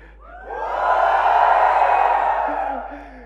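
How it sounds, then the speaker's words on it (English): A roomful of several hundred fans cheers at a Xiaomi Redmi K20 series product launch, swelling into a loud, sustained roar of shouts and whoops that holds for about two seconds and then fades. "Mi fans, give me a cheer."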